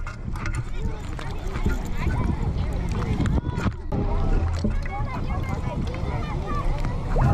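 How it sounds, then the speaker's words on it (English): Strong wind buffets an outdoor microphone at a lakeside during metal detecting, a steady low rumble filling the whole stretch with gusty surges under a voice. "It's very windy."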